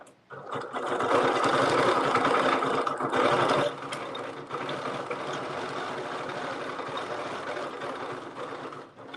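Sewing machine stitching circles against a ruler edge, a close steady mechanical whir that runs continuously, louder at first and then settling slightly softer until it stops.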